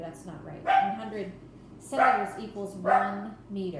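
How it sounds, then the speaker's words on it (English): A pet dog barks several times in a row in a home during a math lesson, sharp yips spaced about a second apart, heard close by while a teacher speaks over them. "I'm sorry about my dog barking."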